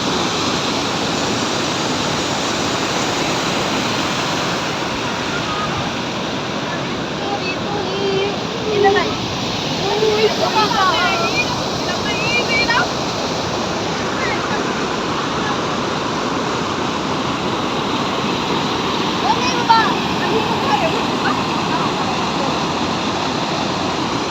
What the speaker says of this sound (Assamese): মেইন ঝৰ্ণা আমি পাই গ'লো মেইন ঝৰ্ণা